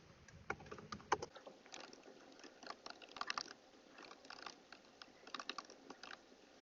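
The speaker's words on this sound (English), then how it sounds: "you do this by typing in these commands" Close, irregular clatter of computer keys being typed in quick bursts with short pauses, soft and unaccompanied by speech.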